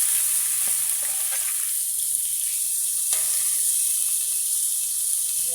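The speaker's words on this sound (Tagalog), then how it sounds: "ilagay natin yung ating karne" Meat sautés in a little oil in a pan, a loud, steady high sizzle up close with a few light spatula knocks and stirs.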